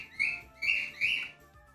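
A spooked pet bird chirps and calls in three clear, evenly spaced bursts, each high-pitched and fairly near, with no talking over them.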